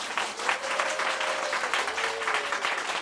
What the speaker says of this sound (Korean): 다시 한번 박수 보내주시기 바랍니다